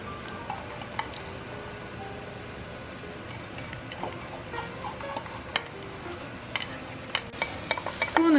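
A spoon stirs chili thick with oregano and tomato paste, giving soft scraping with a few sharper clinks and ticks near the end, close and moderately quiet.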